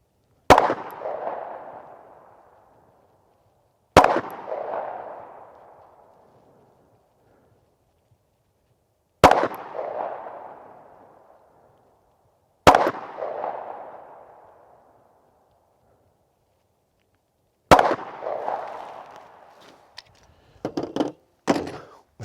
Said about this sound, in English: we're going to go ahead and put 5 rounds into the head at 15 yards